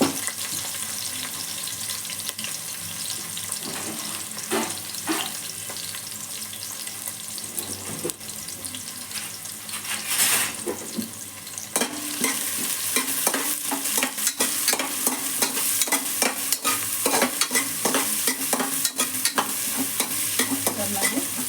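Chopped onions added to a pan after green chillies, frying and stirred for a chicken gravy: a steady broadband sizzle with repeated scraping stir strokes, close and continuous, louder in the second half, with no talking.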